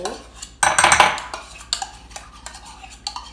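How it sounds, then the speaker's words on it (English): A utensil scrapes and clinks against a bowl while scraping out mayonnaise, starting with a loud rough scrape, then lighter repeated taps and scrapes. "scrape my mayo into the bowl"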